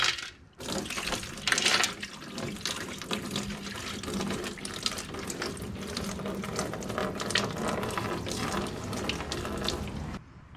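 Water pours and sloshes out of a Honda CT90 motorcycle fuel tank during restoration, a continuous close gushing and splashing with some metallic rattling, ending abruptly.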